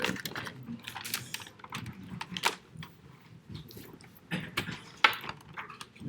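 Close, irregular clatter of keys on a spare computer keyboard, with bursts of quick taps separated by brief pauses and a few louder strikes.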